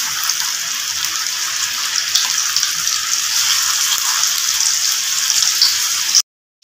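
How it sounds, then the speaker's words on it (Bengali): Chicken popcorn frying in oil over a low flame, a dense, bright hiss of bubbling oil that holds steady and close before cutting off abruptly near the end, with no voices. "এবার আমি এগুলোকে একটা একটা করে ভেজে নেব।"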